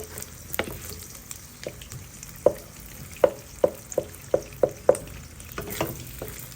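Eggs fry in a pan for breakfast in Nueva Ecija, making a steady background sizzle broken by a quick series of sharp scraping clicks from a utensil working the pan, with no talking.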